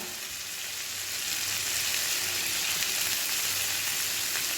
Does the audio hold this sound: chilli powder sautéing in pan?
yes